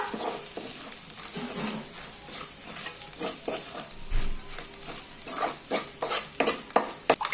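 Ground wet spice paste, made without water, frying in oil in a pan for a traditional Bhogi mixed-vegetable dish: a steady bright sizzle with scraping stirs and occasional clinks of a utensil against the pan, close and fairly loud.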